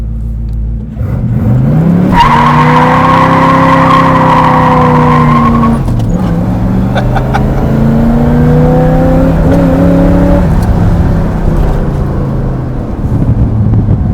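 A 1970s Chevrolet Chevelle SS454 LS5 with a big-block V8 accelerates loudly nearby, its engine note rising through the gears with a brief drop at a shift, heard from close range.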